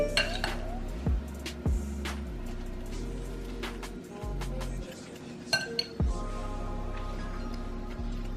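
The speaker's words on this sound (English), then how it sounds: "You gotta keep stirring until it's all melted." Spoon stirring chocolate melting in a pot, with repeated clinks and scrapes of metal against the pot in an uneven rhythm, close and fairly clear.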